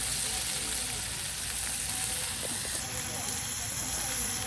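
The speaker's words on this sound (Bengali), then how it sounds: "এই যে এখন কিন্তু মাংসগুলো দিয়ে দেওয়া হচ্ছে" Beef pieces tipped into fried spices in a pan at a riverside boat community's Eid cooking, heard as a dense, continuous sizzle and steam hiss up close.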